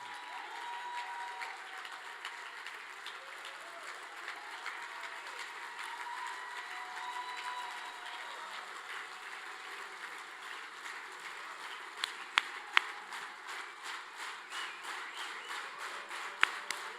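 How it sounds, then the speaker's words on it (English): An audience at an awards dinner applauds hotel staff with sustained, even clapping that runs on steadily with a few sharper claps near the end, with no talking over it. "Please give these wonderful men and women a round of applause."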